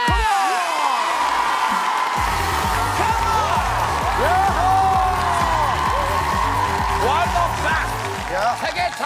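A Korean TV studio audience claps and cheers loudly for a world-ranked yoyo performer, with whoops over a strong rhythmic beat and voices throughout.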